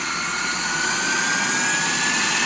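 A jet engine roars loud and steady, a continuous broadband whoosh with a faint high whine held throughout and no voices over it.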